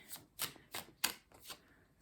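Tarot cards are shuffled and drawn in a quiet room: five soft, crisp riffling swishes in an even rhythm, close and faint, with no talking.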